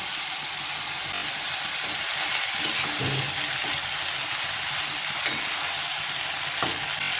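A soaked paste of turmeric, coriander, mustard and chilli powder sizzles in a hot pan with a loud, steady hiss and frying crackle, with a few faint stirring knocks.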